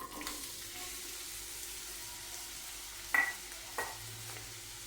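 Chopped onions hit hot oil in a pan for an aratikaya tomato curry, a quiet, low sizzle with a couple of brief clinks and stirring knocks near the end, close by and without talk.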